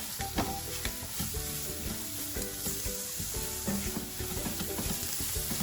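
Roughly chopped garlic fries in a pan for leftover fried rice, a dense close sizzle running steadily with repeated clinks and scrapes as it is stirred, no one speaking.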